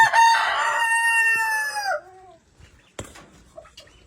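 A rooster crows loudly and close for about two seconds, then chickens cluck softly in a quiet farmyard, with a single sharp knock partway through.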